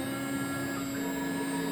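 A replacement spindle on a Laguna IQ CNC machine runs at a steady, fairly quiet hum with a constant whine. It stays level and unbroken throughout, with no voices.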